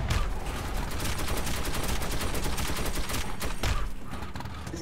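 Panzer tank gunfire in Metro 2033: a dense, continuous rattle of rapid shots over a loud low rumble, with a sharper blast near the end.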